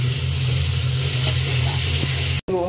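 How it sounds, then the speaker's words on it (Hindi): Masala frying with mutton in a pan, a loud, continuous sizzling hiss that runs steadily, then briefly cuts out just before the end. "उसके बाद मसाला फ्राई हो रहा है, मटन तैयार हो रहा है"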